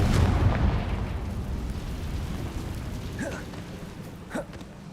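Explosion spells Bombarda and Confringo in Hogwarts Legacy. A heavy rumbling blast opens and slowly decays into a steady roar, with a couple of small sharp pops near the end.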